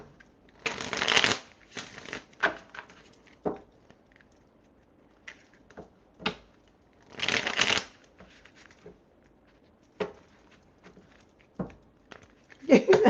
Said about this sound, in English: I'm going back reading these things while I shuffle these cards